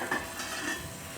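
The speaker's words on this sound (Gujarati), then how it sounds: "એકદમ આ રીતનું પાણી ઉકળી જવું જોઈએ" Water in a pot with a spoonful of oil being stirred on the stove as it heats, a soft bubbling hiss with gentle swishing from the stirring, brief and fairly quiet.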